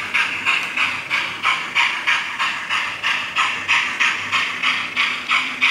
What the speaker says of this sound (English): she does sound different from normal steam locos, which is really pleasing